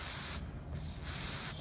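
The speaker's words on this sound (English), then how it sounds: "because you're able to focus the spray further into the lock" Lubricant spray can hissing into an antique front door lock, two close, loud bursts of spray separated by a short pause, with no talking.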